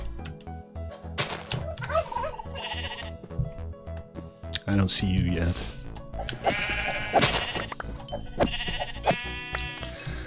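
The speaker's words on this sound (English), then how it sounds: "Alright, well, I found some sheep." Sheep bleat several times in a modded Minecraft game, the short in-game calls mixed with background music while someone talks over them.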